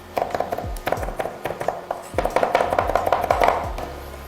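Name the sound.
knife chopping chicken on a cutting board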